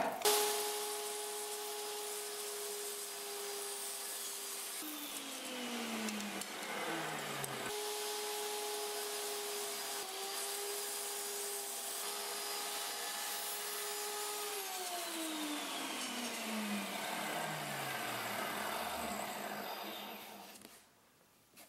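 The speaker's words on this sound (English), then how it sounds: "every time we set the table saw, we're going to use it to make all 4 cuts." A table saw cuts through a 2x4 twice, its blade whine running steady under the cut and then spinning down in a falling pitch after each pass. It sounds loud and close, with no talk.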